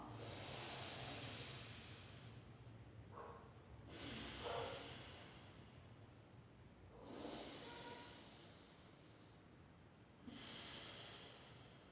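Yoga breathing exercise through alternating nostrils: long, steady nasal inhalations and exhalations with a hissing, airy quality, repeated in slow cycles of about three seconds each, close and clear with no talking.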